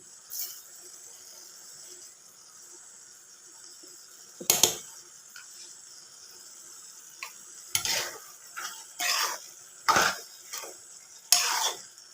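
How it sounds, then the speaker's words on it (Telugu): Ridge gourd curry, salted, cooks under a lid in a pan with a soft, steady sizzle. Several sharp clatters and scrapes of a lid or spoon break in near the end, and no one speaks. "మూత పెట్టేసుకొని కాసేపు అయితే మగ్గనిద్దాం బీరకాయలను"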